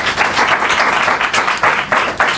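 A studio audience at a comedy show breaks into loud, dense applause after a new segment is introduced, the clapping sustained and swelling in waves.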